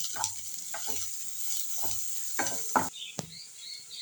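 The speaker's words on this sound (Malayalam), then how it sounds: "ഇനി നമുക്ക് ഈ വഴണ്ട ഉള്ളിയിലേക്ക് ഇഞ്ചി വെളുത്തുള്ളി പേസ്റ്റ് ചേർക്കണം നല്ല അത് നല്ലതുപോലെ വഴറ്റണം" Onion with ginger garlic paste sautés in a pan for soya fry, a steady soft hiss broken by repeated scraping stir strokes and light clatters from the utensil.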